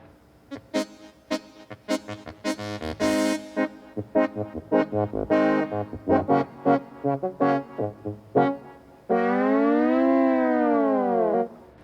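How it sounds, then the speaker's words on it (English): A Yamaha CS60 analog synthesizer plays a run of short, bright staccato notes, then holds a long sustained tone with a slow, wavering pitch bend. "This synthesizer is my Yamaha CS60"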